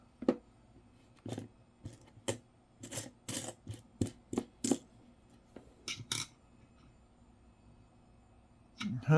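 Nickels clink and drop during a coin roll hunt, a string of sharp metallic chinks in irregular bursts, close and fairly crisp, with short pauses between handfuls and no talk.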